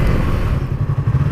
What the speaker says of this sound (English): this bike's just got the standard exhaust on it, and hopefully the microphone's picking it up. It just sounds amazing.